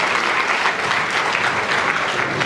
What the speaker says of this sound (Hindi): तो एक तालियां अपने लिए बजा लो पहले